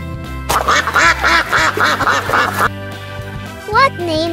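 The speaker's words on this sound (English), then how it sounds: "Duck." A cartoonish duck quacks in a quick run of loud, rhythmic calls over light background music, followed by a short gliding voice or sound effect near the end.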